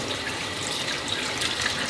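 Tap water runs steadily into a sink for hand washing, a continuous close hiss and splash with no breaks or talking.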